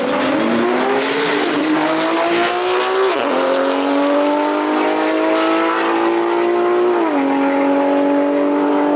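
A 2JZ-swapped BMW E90 drag races a BMW E46 M3 at a Euro drag event, with loud engines screaming and climbing through gears, pitch dropping briefly at each shift, and a tire squeal at the start.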